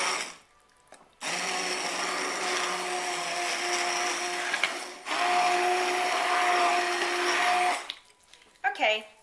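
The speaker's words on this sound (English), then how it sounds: "I'm going to take my immersion blender, and I'm just going to start blending it" An immersion blender whirs steadily through broccoli cheddar soup in two long bursts with a brief pause between, a loud motor hum with a faint rising pitch.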